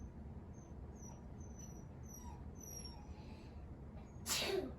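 A single sharp sneeze bursts out near the end after quiet indoor background with faint high chirps, close and sudden.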